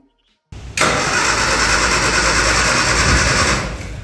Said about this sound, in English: We're going to try turn it over now.